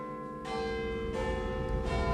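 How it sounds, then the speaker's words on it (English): Big Ben at the Houses of Parliament in London chimes with rich, sustained bell tones, successive strikes overlapping in a resonant wash, loud and unaccompanied by speech. "The chimes of Big Ben became one of the most famous man-made sounds on earth."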